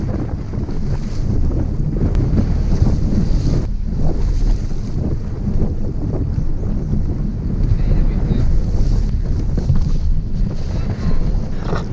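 Strong, relentless wind buffets the microphone on a cold lake during a fishing trip, a loud continuous roar with lapping water and gusts throughout.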